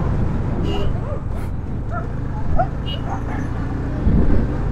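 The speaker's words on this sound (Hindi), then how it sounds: "अरे यार ये कुत्ते," Dogs barking and yipping beside a dusty road on a Udaipur–Mumbai motorcycle ride, several short barks and whimpers under steady engine and wind rumble, with a louder burst near the end.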